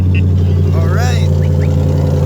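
A Ford Mustang with a Coyote V8 and forged internals idles steadily and loudly up close, a continuous low engine drone under brief high squeaks.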